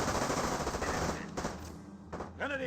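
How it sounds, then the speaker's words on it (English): Machine gun fire from Company of Heroes gameplay, with troops gunning down Grenadiers; rapid, dense bursts of gunfire mixed with battle noise and other effects, fairly quiet throughout. "And now they start gunning down these Grenadiers no problem."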